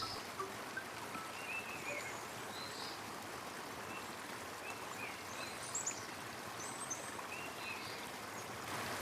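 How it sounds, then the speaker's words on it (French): A forest stream murmurs steadily in a soft, continuous babble of flowing water, faint and even throughout, with a few small bird chirps scattered above it. "suivez le murmure du ruisseau"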